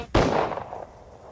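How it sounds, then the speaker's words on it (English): A single sharp gunshot cracks out at the close of a music track, a sudden loud report followed by a fading echoing tail with no other sound. "Track ends with the sound of a gunshot."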